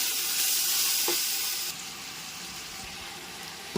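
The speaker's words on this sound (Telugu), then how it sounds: "మళ్ళీ తర్వాత అల్లం వెల్లుల్లి పేస్ట్ వేసుకున్నాం. ఆనియన్స్ గోల్డెన్ బ్రౌన్ కలర్లో వస్తున్నాం." Onions frying toward golden brown with ginger garlic paste give off a steady, close sizzling hiss that drops in level partway through, with a couple of faint knocks and no voices.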